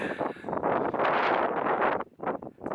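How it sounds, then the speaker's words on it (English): Strong wind blows across an outdoor campground, roaring steadily and loudly into the microphone with gusty surges and brief lulls, no talking. "Here's a quick overview of the campground in the wind."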